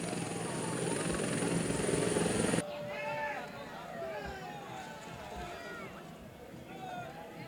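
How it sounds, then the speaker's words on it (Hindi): Helicopter carrying Yogi Adityanath landing amid a large crowd: a loud rotor and engine roar cuts off abruptly, leaving crowd noise and voices with a faint whine lingering. "योगी आदित्यनाथ का हेलीकॉप्टर जो है वो यहाँ पर लैंड हो चुका है"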